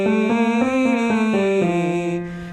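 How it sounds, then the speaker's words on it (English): A singer's lip trill, lips buzzing through a rising and falling pitch pattern into E across the secondo passaggio, steady and close, with a sustained held tone near the end and no talking. "we're going to start off with this lip trill into E."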